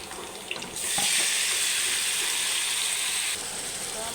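Meat frying in a pan gives a bright, steady sizzle that jumps louder after a soft clatter as it goes in, holds evenly, then eases down near the end.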